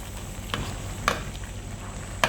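Afang leaves and crayfish are stirred in a sizzling soup pot, giving a steady close hiss with a few sharp scraping knocks of the spoon. No one talks.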